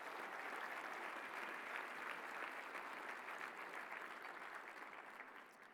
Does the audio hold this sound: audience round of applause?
yes